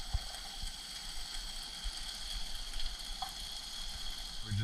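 Steady soft sizzle of fish and garlic cooking in a pan, with faint stirring and occasional light clicks of a utensil.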